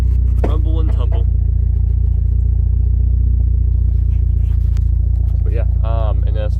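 Deep, steady car engine rumble at idle holds through the whole stretch, loud and close, with someone talking briefly over it near the start and again near the end.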